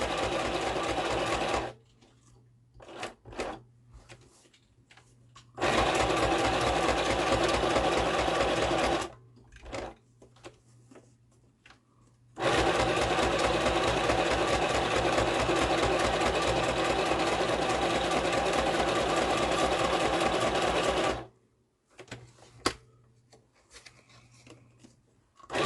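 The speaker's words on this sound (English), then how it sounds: "And now sew round it." Sewing machine stitching around a fabric piece, loud close runs of rapid mechanical chatter lasting several seconds each, broken by quiet pauses with small handling clicks.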